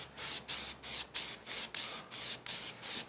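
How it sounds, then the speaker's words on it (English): Paint sprayed onto body panels of a 1986 C30 during rust repair comes in eight even hissing passes, each about a quarter second with short pauses between, close and consistent. "Try my best to be consistent with my spraying."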